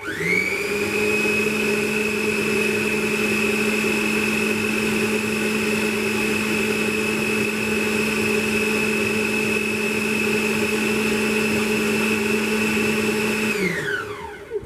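A blender whirs steadily as it purees an extremely hot sauce, a loud, constant motor drone that holds a single pitch for about thirteen seconds before spinning down.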